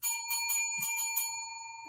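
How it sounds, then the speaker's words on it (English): A bell is rung close by in repeated bright metallic strikes whose ringing tones sustain and slowly fade across two seconds, with no talk. "That bell. Oh, my bell."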